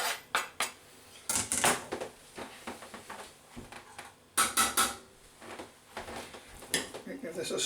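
Chillies being added to a bean mixture in a slow cooker, heard as irregular close clinks and scrapes of a utensil against the pot and ceramic, with short pauses between bursts.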